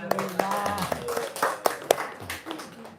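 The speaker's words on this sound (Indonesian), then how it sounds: "Tepuk tangan dong." Scattered clapping from a small studio audience during an Indonesian talk session, a few sharp irregular claps mixed with voices talking over them.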